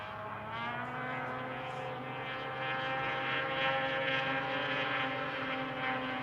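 Sportsman 600 class snowmobiles with 600cc engines racing at a power toboggan championship, a continuous droning engine roar that swells slightly midway, steady and fairly loud with no talk.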